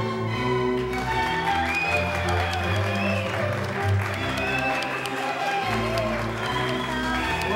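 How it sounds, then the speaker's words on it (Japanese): Wedding guests applaud as the bride and groom enter, with the clapping partly masked by loud, continuous music that plays throughout. "皆様、盛大な拍手でお迎えください。"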